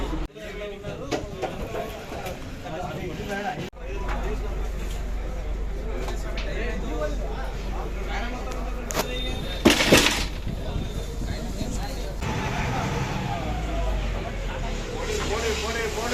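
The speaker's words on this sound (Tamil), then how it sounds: "போட் வந்து ஸ்டார்ட் பண்ணியாச்சு" A boat engine starts up for a ride at Rameshwaram. A steady low rumble settles in after a few seconds and carries on under continuous talk and background noise.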